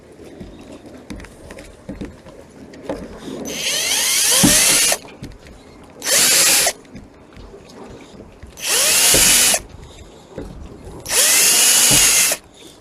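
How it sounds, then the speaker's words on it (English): A cordless drill with a metal-drilling attachment whines in four loud bursts of high-pitched grinding into metal, each lasting one to two seconds, separated by quieter handling noise. "I decided to use the cordless drill with a attachment for drilling into metal"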